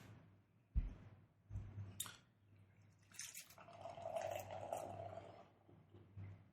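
Beer is poured from a 12-ounce can into a glass, with a few soft clinks and drips followed by a quiet, bubbling liquid stream and fizz; faint and close, with no talking.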